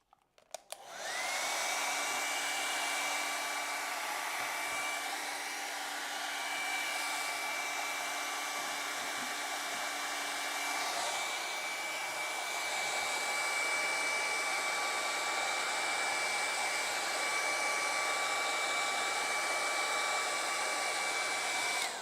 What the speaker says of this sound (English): Let me make sure my hairdryer is plugged in.